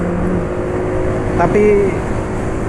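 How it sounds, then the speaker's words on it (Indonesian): A vehicle engine running on KCO cooking oil instead of motor oil idles with a steady, rough drone, loud and close, while someone talks over it. "Jadi dari sisi suara mesin lebih kasar dari kemarin"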